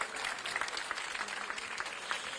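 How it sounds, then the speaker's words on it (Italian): A theatre audience gives a brief, sparse round of applause, a soft scattering of claps heard fairly distant and quiet throughout. "Un timido applauso."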